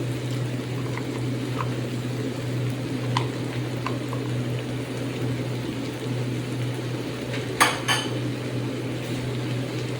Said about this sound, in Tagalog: At haluin uli.